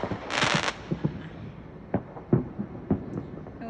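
Fourth of July fireworks heard from a deck: one rushing crackling burst followed by scattered, moderately distant pops and thuds at irregular intervals.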